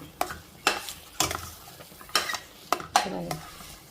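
A spoon scrapes and knocks against a pan while sweet bobbattlu flatbread filling is stirred, six distinct close clanks at a steady rhythm, each trailing into a soft scrape.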